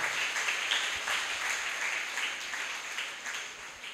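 A church congregation claps together, a steady wash of many hands at moderate distance continuing evenly throughout with no voices over it.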